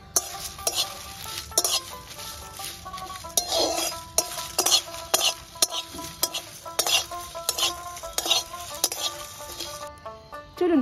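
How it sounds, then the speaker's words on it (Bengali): Whole cumin and coriander seeds dry-roast in a pan while a spatula stirs them, giving repeated metallic scrapes and clinks over a light crackle. The stirring comes close and fairly loud, in irregular bursts. "এবার এর মধ্যে একটু দিয়ে দেবো গোটা জিরে, এরপরে দেবো কিছু গোটা ধনে। এবার ভালো করে একটু ভেজে নেব।"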